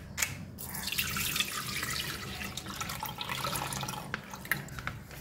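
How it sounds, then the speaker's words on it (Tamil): Milk pours into a pressure cooker for carrot halwa, a soft continuous liquid splash and trickle heard close and fairly quiet, with a few faint drips and clinks. "முதல்ல பார்த்திங்கன்னா இந்த பாலை ஊற்றிக்கலாம்."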